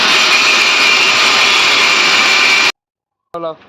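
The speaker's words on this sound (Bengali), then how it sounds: "তারপরে গ্যান্ডিং দিয়ে সামনের চাকাটা খুলছিলাম।" Angle grinder cutting off the front wheel of an old-model RTR 2V motorcycle, a loud continuous high-pitched whine that stops abruptly, followed by a brief voice.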